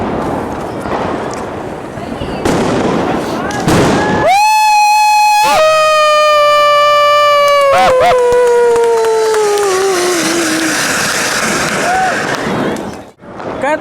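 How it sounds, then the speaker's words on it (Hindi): Anar fountain fireworks lit at a Diwali celebration in a residential society, a loud rising whistle-like hiss that holds steady for several seconds, then gradually sinks and fades amid crowd chatter, with people talking throughout. "ये होते हैं अनारदानो जो ऊपर भगे"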